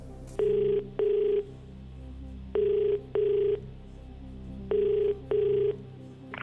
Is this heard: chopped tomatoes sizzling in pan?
no